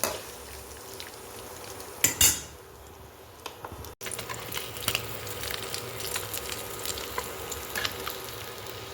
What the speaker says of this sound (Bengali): তো কাঁচা অবস্থাতে একটু চালিয়ে নিচ্ছি যাতে একটার গায়ে আর একটা সেটে না যায়